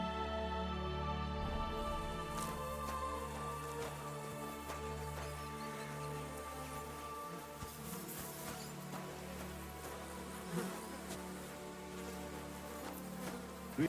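Bees buzz steadily in Kingdom Come Deliverance 2, a continuous low insect drone that lasts throughout with faint clicks over it.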